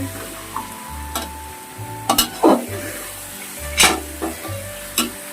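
Village-style country chicken curry being stirred in a pan of hot oil, with a spoon scraping and clinking against the metal at intervals over a low steady sizzle and a background hum.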